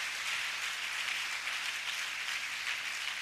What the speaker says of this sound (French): Can we give hand clap for our interpreters?